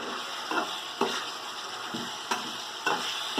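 Coriander and curry leaves sautéing in a pan for chicken biryani, a steady sizzle punctuated by regular scraping stirs roughly every half second.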